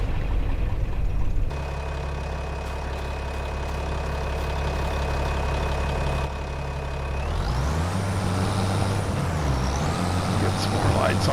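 A tractor engine in Farming Simulator 25 idles with a low, steady rumble, then revs up and shifts pitch near the end, with a clicking switch sound early on.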